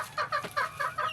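Newly acquired chickens, including roosters, clucking close by in a repeated burst-and-pause rhythm, about five clucking phrases in quick succession, with no talk over them.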